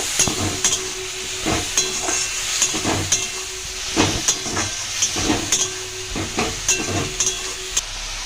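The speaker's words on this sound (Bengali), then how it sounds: "পেঁয়াজটা দিয়ে এবার ভালোভাবে ভেজে নেব।" Onions frying in oil for a fish curry, a continuous close sizzle punctuated by regular clacking stirs and scrapes of a spatula against the pan.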